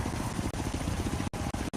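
A helicopter carrying a Jeep in Forza Horizon 3 gives off a loud, steady rotor and engine drone, with rhythmic low thumping and a few abrupt dropouts.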